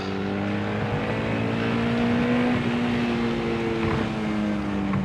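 Mazda NC Miata cruising a cool-down lap on a race track, a steady in-cabin engine hum with sustained tonal drone and slight pitch drift, continuous and fairly loud without speech.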